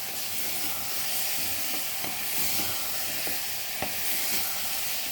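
Chili powder stirred into a frying curry of tomato, green chilies, onion, bottle gourd and moong dal gives a steady close sizzle, broken by scattered scraping clicks of the spoon against the pan.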